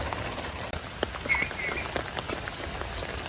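Steady rain falls outdoors on a quiet, empty rural road while frogs croak repeatedly throughout, a soft continuous patter with scattered wet drips and no talking.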